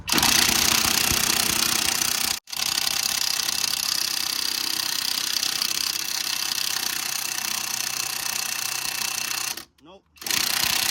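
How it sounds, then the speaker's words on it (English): Loud, continuous rattling whir of a power tool driving a 17mm socket on a stabilizer link nut of a 2007-2013 Toyota Highlander, running steadily for several seconds with a short stop and a brief dropout near the end. "we can put our 17mm socket and tighten it down until it breaks"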